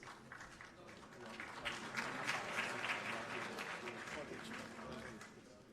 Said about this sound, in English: Oh, please, let's give them a round of applause.